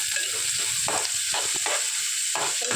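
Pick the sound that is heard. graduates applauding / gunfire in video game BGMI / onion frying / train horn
onion frying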